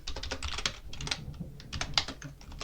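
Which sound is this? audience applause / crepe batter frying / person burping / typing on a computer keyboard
typing on a computer keyboard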